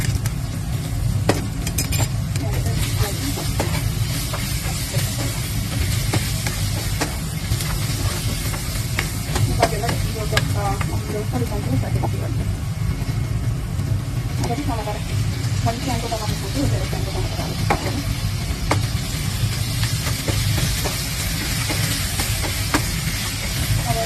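Garlic and tomato sizzle in a pan of cooked spice paste for a Nepali goat-meat curry, with a steady frying hiss and occasional stirring scrapes, close and continuous.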